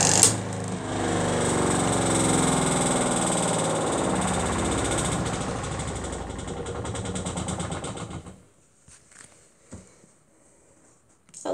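A 2019 Zeny washing machine runs with a loud, steady mechanical drone and rattle for about eight seconds, then cuts off, leaving near silence with a few faint clicks.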